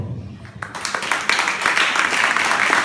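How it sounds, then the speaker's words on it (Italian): An audience applauding performer Gianmarco Galdi, clapping swelling in from quiet into a dense, steady burst of many hands. "Un applauso ancora per Gianmarco Galdi."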